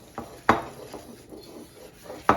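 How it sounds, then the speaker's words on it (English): Allulose stirred into keto doughnut batter in a bowl, with a spoon scraping and knocking against the bowl in a few sharp clacks between softer stirring sounds, close up. "I'm gonna give this a nice mix."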